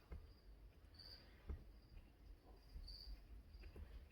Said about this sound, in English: You hear my cricket, my shop cricket there.